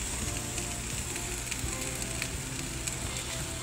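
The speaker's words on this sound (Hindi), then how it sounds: "थोड़ा सा कटा हुआ हरा धनिया डालकर सब्ज़ी को थोड़ी देर और फ्राई करेंगे" Okra cooked with besan masala and chopped coriander fries in a pan with a continuous soft sizzle and small crackles, faint and steady with no voices.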